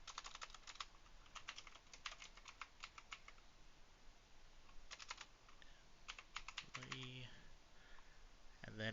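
Someone types on a computer keyboard while building a table in Microsoft Word: quick, light clicking in irregular bursts and pauses throughout, close and fairly quiet, with a voice briefly near the end.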